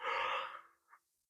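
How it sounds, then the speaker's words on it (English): A single human yawn, a breathy open-throated exhale that fades out, followed by a brief soft trailing breath, heard alone and close. "whenever I try to fake the yawn, it turns to a real yawn"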